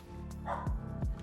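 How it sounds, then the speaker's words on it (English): A dog barks twice in the background indoors, short muffled woofs following a faint higher yip, fairly quiet against a steady low hum. "Sorry for the dog in the background"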